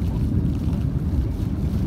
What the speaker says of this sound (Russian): Кораблик идет по волнам